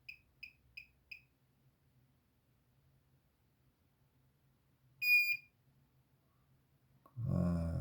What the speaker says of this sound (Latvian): Garais pīkstiens. Viens čips ir ierakstīts.